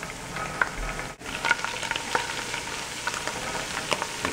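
Crushed red pepper and oregano being stirred in a frying pan for linguini with white clam sauce: a steady close sizzle and frying crackle with soft scraping stir strokes, no talking.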